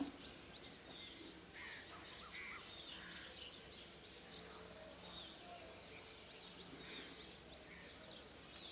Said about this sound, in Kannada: ಪಕ್ಷಿಗಳು ಪಕ್ಷಿಗಳು ಚಿಲಿಪಿಲಿ ಸೌಂಡ್ ಮಾಡ್ತಿದೆಯಲ್ಲ ಅದು ಬೆಳ ಬೆಳಗ್ಗೆ ಕೇಳೋದಕ್ಕೆ ಒಂಥರ ಖುಷಿ